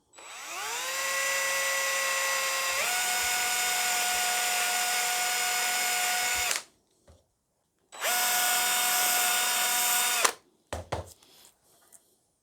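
A power drill with a 2.5mm bit whines at high speed for several seconds, pauses, then runs again briefly before stopping, followed by a few small clicks and knocks.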